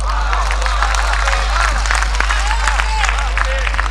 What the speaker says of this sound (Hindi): दिनकर की बात पे आपकी तालियां उठे।